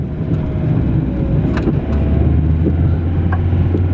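A BMW E36 pulls away with a low, steady engine rumble heard from inside the cabin, the drone deepening partway through, without voices.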